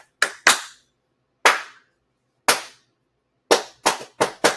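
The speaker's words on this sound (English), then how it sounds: "He did the car wash clap." Single person doing sharp, loud cupped hand claps in an irregular rhythm at a workshop, eight distinct cracks with silent gaps between them, ending in a quick run of four.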